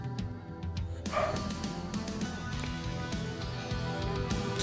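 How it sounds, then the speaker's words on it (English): A dog barks frantically somewhere in a home, a run of excited, moderately loud yips and woofs heard at a slight distance over steady background music. "There's a dog going nuts."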